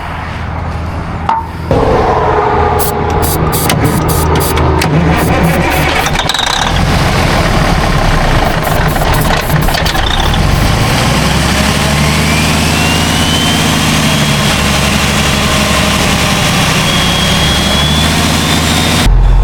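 A 1962 Peterbilt truck engine, out of fuel after twenty years in storage, cranks with a brief starter burst and then settles into a loud, steady low rumbling idle that runs on without a break.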